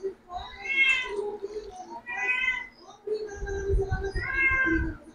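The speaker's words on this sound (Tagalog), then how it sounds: "Ito na yung mga pusa, kita." Several cats meow insistently around someone eating, giving four drawn-out, rising-and-falling cries in quick succession, close and loud.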